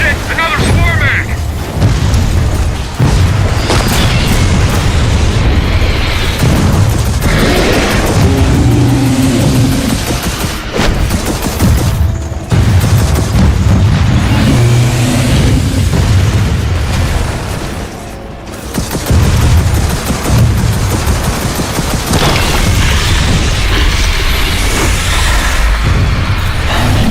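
Rocket fire and heavy explosions from Gears of War 4 at a dam rumble loud and continuous, with deep booms and bursts layered over constant battle noise.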